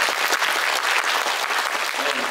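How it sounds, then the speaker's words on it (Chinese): Audience applause at an elementary school string orchestra concert, dense steady clapping from a crowd, close and loud throughout. "我们是掌声来 感谢他们"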